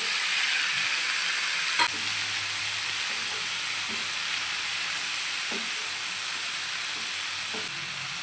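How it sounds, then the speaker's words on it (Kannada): Onions and tomatoes frying in a pan for paneer masala gravy, giving a steady, even sizzle and hiss with a few faint stirring knocks, close and continuous, with no talking. "ಈಗ ಹಸಿ ಸ್ಮೆಲ್ ಹೋಗೋವರೆಗೂ ಚೆನ್ನಾಗಿ ಫ್ರೈ ಮಾಡ್ಕೊಬರ್ತೀನಿ"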